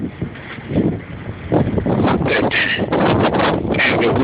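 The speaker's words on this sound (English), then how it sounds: "It's a strong wind from behind me." Strong blizzard wind in Worcester, Massachusetts buffets the microphone, producing loud gusting rumbles and roaring bursts that swell and fade throughout, close and harsh.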